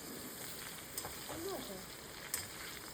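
Bottle gourd pieces fry in a pan with spluttering cumin seeds and a bay leaf, giving a faint, steady broadband sizzle with a couple of small clinks; a voice is faintly heard underneath.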